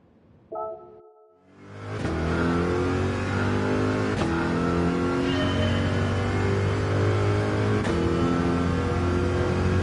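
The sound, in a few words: Corvette accelerating in Gran Turismo 4 speed test, video game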